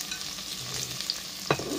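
Squid frying and being stirred in a pan, with a steady close sizzle and scraping stir strokes, ending in a sharp clack of the utensil against the pan.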